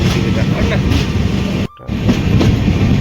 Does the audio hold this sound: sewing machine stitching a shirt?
no